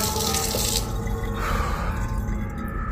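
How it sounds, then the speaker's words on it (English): Water runs steadily from a kitchen faucet that turns on by itself, splashing into a sink, with the flow changing character partway through. "the kitchen faucet activated repeatedly by itself"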